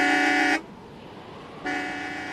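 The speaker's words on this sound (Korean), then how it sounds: "빌리 산체스는 자동차 경적을 몇 번 울렸으나" A car horn honks twice, each a long steady blast of about half a second to a second, separated by a quiet gap, loud and close with no talking.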